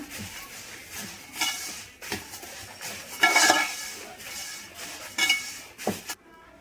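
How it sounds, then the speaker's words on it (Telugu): A spoon stirs sugar into a flattened-rice mixture in a bowl, scraping and clinking against the sides in intermittent bursts. The sounds are close and fairly quiet, with a louder flurry of strokes midway. "కొంచెం చక్కెర యాడ్ చేయండి. మిక్స్ చేస్తా"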